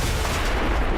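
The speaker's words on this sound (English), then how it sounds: "so that explosion, I didn't know that could explode" A loud explosion in the video game XCOM, a dense, booming blast that fills the whole second at close range with no speech.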